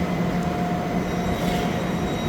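A train in Germany rolls past with a steady, loud rumble and a sustained high metallic wheel squeal, continuous and without any talking.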